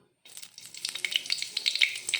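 Crackling sizzle of chopped green chillies hitting hot oil for a brinjal curry, sharp pops scattered through a steady hiss, close and fairly loud.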